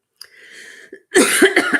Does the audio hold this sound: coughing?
yes